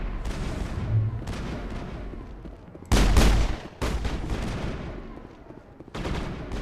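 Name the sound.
gunfire in the video game Mass Effect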